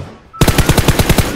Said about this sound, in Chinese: 应该等你捡空投的时候再开枪的，可是我没忍住